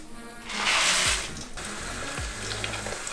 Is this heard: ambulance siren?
no